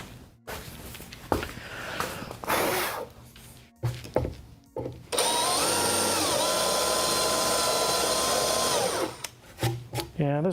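Power drill driving a countersink bit that is the wrong type for the job, whining in a steady sustained burst after some handling clatter and shuffling, then stopping.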